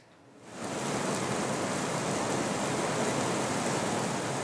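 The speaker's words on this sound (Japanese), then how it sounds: "地面を叩きつける激しい雨。" Heavy rain pounds the ground during a warning-level downpour in Niigata Prefecture, rising within the first second into a dense, unbroken roar that stays loud and steady.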